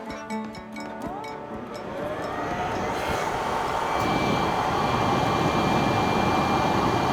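A blower runs close by, forcing air through a radiator on a homemade Suzuki GSXR-powered machine, a steady loud rushing roar that swells and thickens partway through and holds broadband to the end.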